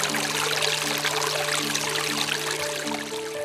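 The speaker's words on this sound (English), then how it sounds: "To the casual observer, it's just an ordinary stream." Ordinary stream water flowing and splashing over rocks, a steady dense broadband rush and gurgle running continuously at close range, with faint tonal hum lines in the background.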